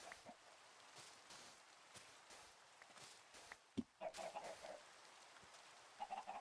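Chickens in the Minecraft video game cluck in short, faint bursts over a quiet background, a few brief clucks spaced out across the stretch.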